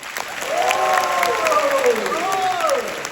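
Theatre audience applauding at a curtain call, a dense wash of clapping with a voice speaking over it throughout.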